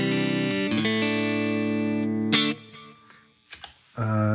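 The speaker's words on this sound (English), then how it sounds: "So the compressor is just giving me that little extra something that I like. I've got a little bit of plate reverb and a little bit of delay." An electric guitar run through a compressor with plate reverb and delay: a sustained chord rings for over two seconds, then quieter picked notes and a couple of short clicks follow before a fresh chord swells in at the end.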